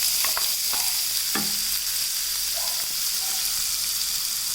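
Onions frying with cumin and mustard seeds in a pan, a steady close hiss of sizzling oil with a few spatula scrapes and taps near the start.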